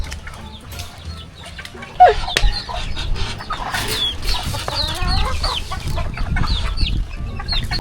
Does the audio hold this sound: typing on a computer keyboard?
no